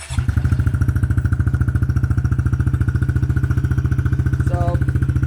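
A 2020 Honda CRF110F dirt bike fitted with a Yoshimura aftermarket exhaust starts and idles loudly in a garage, a fast even putter from close by that continues alone.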